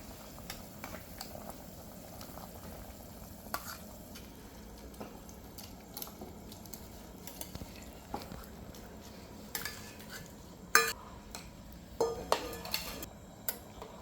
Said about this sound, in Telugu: సో ఇప్పుడు మనం ఇది మిలెట్స్ వేసేద్దాం